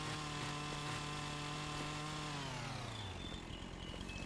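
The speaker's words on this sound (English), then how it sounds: "start cutting all these branches" A chainsaw cuts tree branches in Farming Simulator 25, its steady loud engine whine holding a high pitch before dropping as the throttle eases off, with no talk over it.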